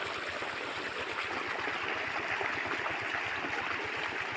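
Irrigation water flows steadily across a wheat field at about 35 days of growth, a continuous close rushing and trickling wash that holds level throughout with no talk.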